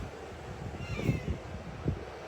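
A small cat at a countryside guesthouse in southern Puerto Rico, where chickens and roosters roam, gives a few short, fairly quiet meows over faint outdoor ambience.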